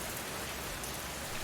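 Steady rain falls in a dense, even hiss, loud and close, with no voices.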